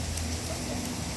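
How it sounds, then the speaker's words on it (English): Heavy rain pouring outside in Florida, a dense continuous hiss and patter close by, steady and loud throughout with no clear voices over it. "The rain out there like crazy."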